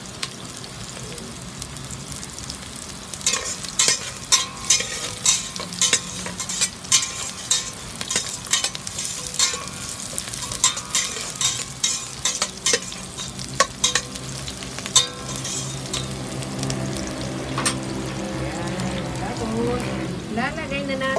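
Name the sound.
stirring food frying in a pan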